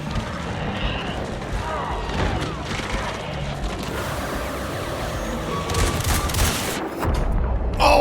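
Gunshots and heavy booms in the video game Resident Evil Requiem on Standard Modern difficulty, dense and continuous against a busy game mix, with a player talking now and then.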